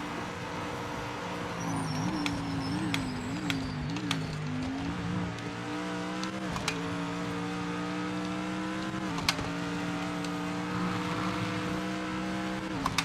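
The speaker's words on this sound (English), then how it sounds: "Rev limiter on it's sick." Race car engine in Project Motor Racing, droning steadily and then bouncing hard against the rev limiter in a rapid warbling stutter, loud and close with no talking.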